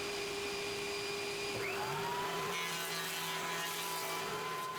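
A jointer squares the edge of reclaimed pallet wood, giving a steady, loud machine whine that holds throughout with a shift in pitch partway as the board feeds across the cutterhead.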